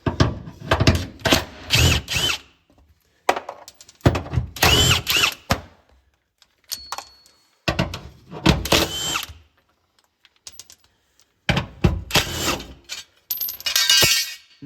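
A power tool whirs in repeated bursts with short pauses between them as it removes four 13mm tunnel brace bolts from the underside of a Mk8 GTI. Close, loud and whining, with metallic rattles between runs.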